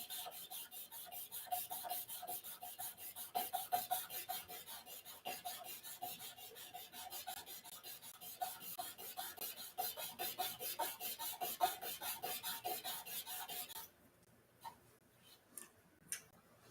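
A wooden briar pipe is rubbed with worn old sandpaper in quick, even back-and-forth strokes, a soft close rasping rhythm that runs steadily and then stops, followed by a few faint taps.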